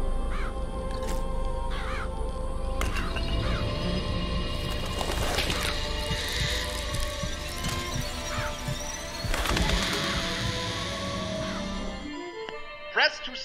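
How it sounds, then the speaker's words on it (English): Ravens cawing in the video game Bioshock Infinite, repeated harsh caws among crashing and clattering effects, fairly loud and close, ending abruptly as the sound drops away near the end. "Birds. It's the ravens."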